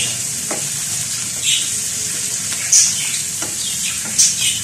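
Pork and mixed vegetables being stirred in a hot pan for a stir-fry rice bowl, a steady close sizzle with soft scraping strokes of the utensil and a few brief clinks.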